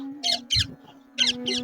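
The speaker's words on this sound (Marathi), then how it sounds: "आणि अलीकडे पक्ष्यांचा कालवा हे ऐकायला भेटत ना," Birds chatter nearby in a village setting, giving a few harsh, scratchy calls in two short pairs over a steady low background hum.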